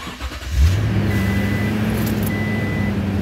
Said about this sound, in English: I'm gonna start the engine here.